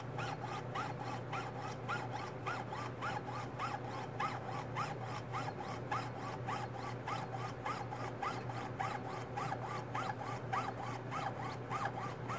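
A saw blade rasps back and forth through a silver quarter in a steady, fast rhythm of even strokes, close and continuous, with a low background hum and no voices.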